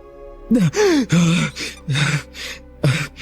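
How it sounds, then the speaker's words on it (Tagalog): Heavy, ragged panting from an aswang creature in a horror audio drama, a series of voiced gasps and groaning breaths, close and loud, performed by a human voice. "dinig ko ang hingal niyang tila uhaw na uhaw"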